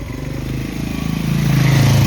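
A motorcycle passes along a narrow shortcut road, its engine note climbing in pitch and growing louder as it approaches, ending as a close, rough, revving drone.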